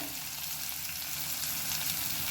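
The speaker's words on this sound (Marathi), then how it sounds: "हा मसाला आपण छान परतून घेणार आहोत" Ground masala for a green sprouted moth bean curry sizzles steadily in hot oil as it is sautéed, a constant close frying hiss with no talk.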